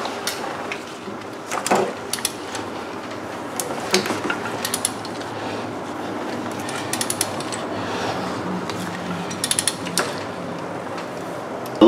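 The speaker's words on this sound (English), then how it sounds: "looks like I was able to start ratcheting the bolt loose" A hand ratchet clicks in uneven bursts while loosening a bolt on the 4.2 supercharged engine of a 2007 Range Rover during a head gasket job, close and fairly loud with metallic creaks and scrapes between strokes.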